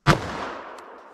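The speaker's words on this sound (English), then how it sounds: "Let's hit it with the 357 Magnum." A single sharp .357 Magnum gunshot, fired into ballistic gel during a Hornady Critical Duty test, cracks close and loud, then rings out in a fading echo.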